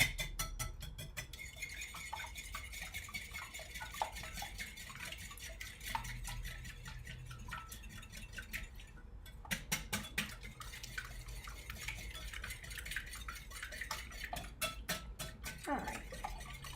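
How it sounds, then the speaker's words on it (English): Three whole eggs and two extra yolks are whisked together in a bowl for Cuban flan, giving a steady run of quick, light clinks and stirring taps close by, with no talking. "I've cracked 3 whole eggs and I have 2 additional egg yolks. And we're just going to whisk this together"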